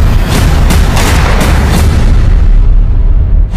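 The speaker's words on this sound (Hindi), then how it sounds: "ओवैसी पर फायरिंग का वीडियो" Gunfire from an attack on a politician's convoy in Hapur, Uttar Pradesh, recorded in a news report, with dense loud bursts and booming reports in rapid succession over a heavy, continuous noise background.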